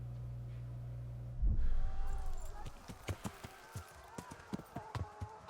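Horse hooves in Kingdom Come: Deliverance, a low rush as the mount starts off, then a run of sharp, evenly spaced clip-clop footfalls thudding close by with no talk over them.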